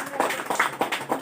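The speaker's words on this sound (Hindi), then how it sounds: "एक बार जोरदार तालियां सर के लिए।" An audience at a company event breaks into brief applause for a speaker, scattered hand claps in a quick irregular rhythm, moderately faint and without speech over them.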